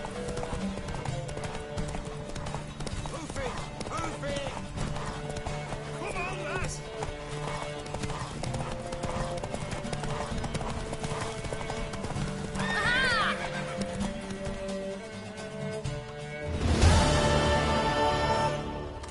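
A horse in a video game gallops with a fast, continuous clip-clop of hooves and neighs loudly near the end, while voices talk throughout over the hoofbeats.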